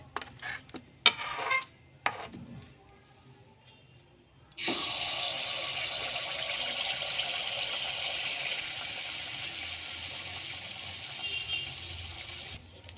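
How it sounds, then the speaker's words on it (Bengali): Palm-fruit malpua batter dropped into hot oil fries with a sudden, steady hiss and crackle that goes on for several seconds, after a few quieter clinks and knocks of utensils. "এবার অল্প অল্প দিয়ে এগুলো ভেজে নেব।"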